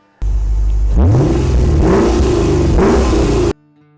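A 2016 Lexus GS F engine revs hard in three rising bursts, loud and close, then cuts off abruptly.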